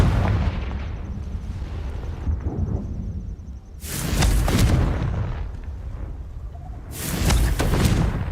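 Two heavy booms from the Confringo explosion spell in Hogwarts Legacy erupt a few seconds apart, each a loud, broad crash over a low background rumble.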